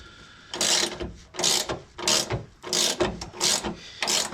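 A ratchet tightens the bolts of a car's transmission cross member in a garage, with six distinct bursts of loud clicking separated by short pauses, close by.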